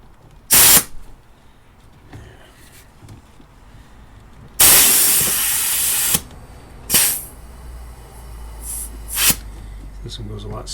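Air hissing from a hand pump and nozzle while pressurising a turbo boost leak tester on a PT Cruiser, several sharp loud bursts including one long sustained hiss, with someone talking between them.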